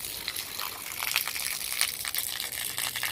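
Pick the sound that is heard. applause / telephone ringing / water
water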